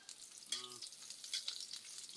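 Marinated kahamal hits a hot pan with a soft steady sizzle and crackle, quiet and close, with brief stirring noises and no talk.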